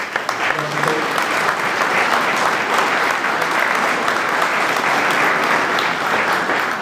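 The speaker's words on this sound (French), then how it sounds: "on peut l'applaudir" Sustained applause from an audience at the inauguration of a sports hall in Caudry, thick and continuous clapping with a few brief voices mixed in.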